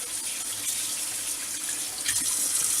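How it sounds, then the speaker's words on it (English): Tap water runs in a steady, close hiss into a sink, unbroken for a few seconds with no talking. "Get my tap on cold water"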